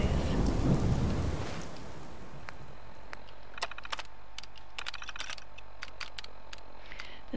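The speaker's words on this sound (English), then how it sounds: "So this is a new type of weather for true storms." Thunderstorm weather from the True Storms mod in Fallout 4: a heavy rumble of thunder rolls in at the start, then fades into a quiet stretch broken by scattered sharp crackles and patters.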